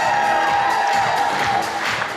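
Audience at a student festival gala awards ceremony, a dense continuous wash of applause and cheering from a large crowd, loud and sustained throughout.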